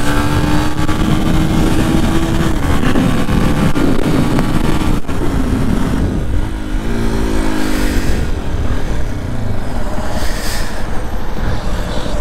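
A Yamaha WR 125 X motorcycle engine runs close and loud, a continuous rough, buzzy single-cylinder drone that holds steady and shifts pitch slightly midway, with no talking.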